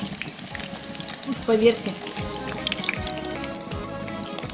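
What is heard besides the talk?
chicken and rice cutlets frying in a pan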